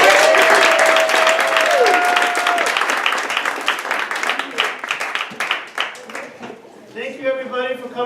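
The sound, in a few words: audience applause at banquet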